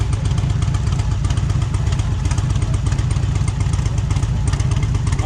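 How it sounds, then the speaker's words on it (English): A motorcycle engine at an oil company's tent during the Thunder Beach Motorcycle Rally in Panama City Beach, run for thousands of hours, idles steadily and loudly nearby with a constant low rumble and mechanical clatter throughout. "I forgot how many thousands of hours they said this motorcycle has"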